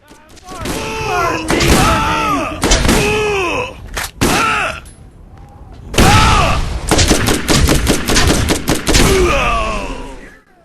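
Shotgun blasts and combat in Borderlands on PC, heavy booming shots repeating irregularly, mixed with enemy groans and creature yells, loud and close throughout with brief quieter gaps.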